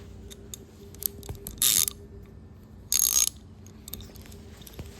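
A ratchet with a 10mm socket turning small bolts on a Baja racer doodlebug brake: two short, loud, sharp clicking bursts about a second apart over quiet mechanical room noise.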